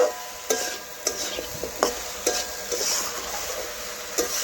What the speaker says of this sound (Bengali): এখন সমস্ত সবজি মিশিয়ে ভালোভাবে আবার একটু নাড়াচাড়া করে নিচ্ছি